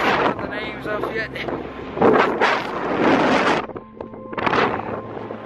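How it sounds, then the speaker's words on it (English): Strong, cold wind gusts roar and buffet the microphone on the high Kang La pass in Dolpo, Nepal, surging and easing in loud bursts while someone speaks. "It's very windy, it's cold."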